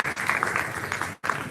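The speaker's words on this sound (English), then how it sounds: "A round of applause for him," Audience applause at a live literary event, a short burst of dense clapping that cuts off briefly and resumes.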